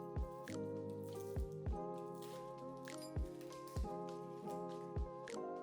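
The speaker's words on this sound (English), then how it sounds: "For our aromatics, we'll cut a yellow onion in half," A knife cuts a yellow onion in half on a cutting board, giving several sharp, close knocks at irregular intervals beneath steady background music.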